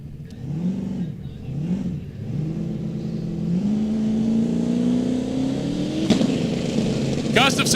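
A C4 Corvette drag car at the start line of a drag strip, its engine blipping in rising and falling revs before holding a long, steadily climbing drone, loud and close, with a brief sharp burst near the end.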